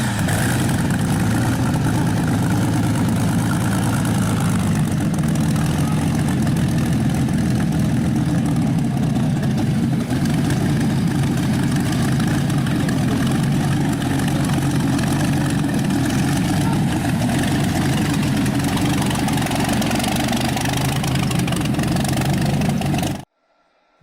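A rare old twin-port car engine runs at a steady idle, a loud, continuous low rumble with a constant mechanical drone that holds evenly throughout and cuts off abruptly at the end.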